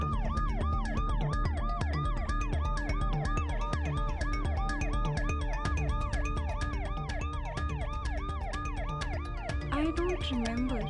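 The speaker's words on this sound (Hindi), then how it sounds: "मेरे सपनों में एक एम्बुलेंस और उसका सायरन बजता रहता है" An ambulance siren wails in a steady, repeating two-tone cycle, loud and close throughout, with faint road traffic underneath and a rising sweep near the end.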